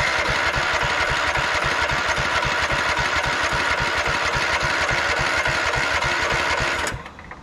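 A 2004 Craftsman LT1000 lawn tractor's small engine runs steadily with a fast, even thumping beat, loud and close, then cuts out abruptly near the end.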